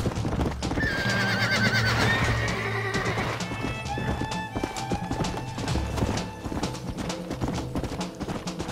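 Horses in Red Dead Redemption neigh loudly with a long whinny, followed by rapid clip-clop hoofbeats of galloping under a dense layer of game sounds, no voices.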